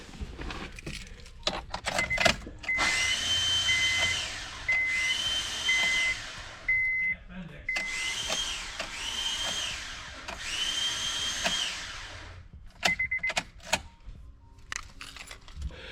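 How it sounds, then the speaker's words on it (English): A Honda CR-V starter motor spins freely without engaging the flywheel, giving a high, steady electric whine in several bursts, with clicks and rattles between them and no voices. "You can turn the key and all you hear is zzz, and it's just the starter spinning."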